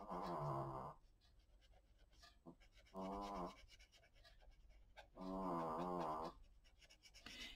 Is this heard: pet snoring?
yes